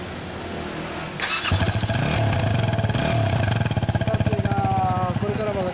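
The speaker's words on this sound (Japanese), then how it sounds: "エンジン音聞かせてもらえるかな" A 2016 Yamaha WR250R dual-sport motorcycle starts with a sharp catch and then idles loudly and steadily up close. Its rapid, even engine pulse continues through to the end, with people talking quietly over it.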